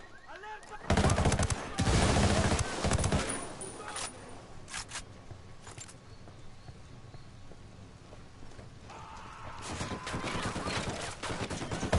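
Dense gunfire from Ghost Recon Wildlands, with loud bursts of shots and blasts early on, then scattered shots and a low rumble. Game voices can be heard through the fire.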